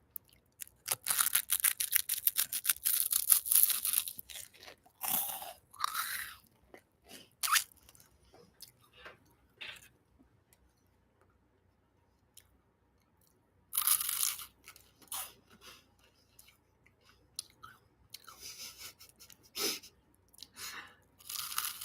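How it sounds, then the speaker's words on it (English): Crunchy bites of crispy avocado toast, loud and close, in bursts of sharp crackling chews separated by a long quiet pause midway, no talking. "Avocado toast. Nice and crispy though."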